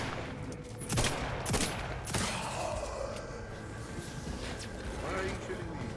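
Gunfire in the video game Outer Worlds 2: a few sharp shots near the one- and two-second marks, then quieter scattered firing and game ambience behind voices talking.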